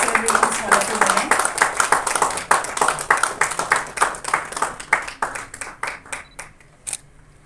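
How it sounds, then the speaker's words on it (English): An audience at a corporate ceremony breaks into dense, steady clapping that runs for several seconds, then thins out and fades near the end. "Can you give a big round of applause celebrations for the 2 women?"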